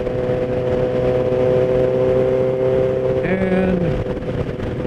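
A 1000cc motorcycle rides through city streets, its engine holding a steady, close drone throughout, with a brief higher tone rising near the end.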